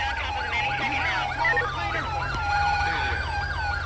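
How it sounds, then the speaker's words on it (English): Several police sirens wail and yelp together in GTA 5 with the LSPDFR mod, overlapping rising and falling tones over a low engine rumble, continuous and fairly loud. "So many police lights and sirens, like what the hell?"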